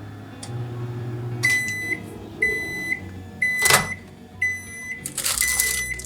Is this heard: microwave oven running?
yes